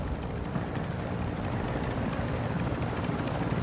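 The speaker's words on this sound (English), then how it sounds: "Just don't want this fucking chopper to fucking land on my ass" A helicopter in a video game hums with a dense, steady rotor and engine roar throughout. The noise is loud and continuous, with no talking over it.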